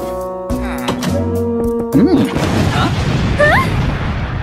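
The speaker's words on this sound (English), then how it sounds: "I think I heard an explosion in the living room." Explosion in the Minecraft video game: heavy booming thuds and choppy crashing bursts in quick succession, loud and close, mixed with game sound effects and brief vocal-like sweeps.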